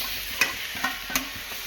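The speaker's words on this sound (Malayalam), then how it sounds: "ശകലം ചിക്കൻ മസാലയും കൂടെ ചേർത്ത് അതിനെ അങ്ങ് വഴറ്റി കൊടുക്കണം." Tomatoes and chicken masala sauté in a pan with a faint, steady sizzle, punctuated by three quick scrapes of a stirring spoon.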